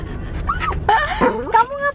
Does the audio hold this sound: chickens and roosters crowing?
no